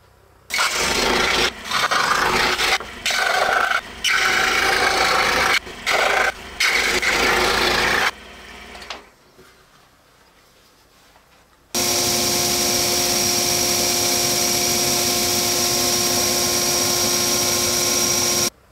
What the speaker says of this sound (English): I'm actually going to use the scroll saw. Then we're going to take it over to the sander, sand up to the lines on our radiuses